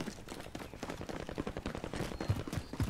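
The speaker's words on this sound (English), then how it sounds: "Anti, taking fire over here!" Rapid automatic gunfire in a battle royale video game, a dense stream of close, sharp shots with uneven rhythm throughout.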